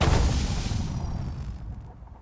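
End blast of a magic spell effect for an Unreal Engine game, a loud explosive boom with a bright crackling top that fades away over about two seconds.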